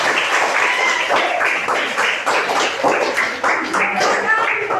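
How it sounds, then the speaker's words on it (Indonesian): A classroom of pupils clapping hands in a rhythmic pattern after a counting rhyme, lively scattered claps mixed with children's voices. "Lima jari kiri, lima jari kanan, digabung jadi 10, jadilah tepuk tangan."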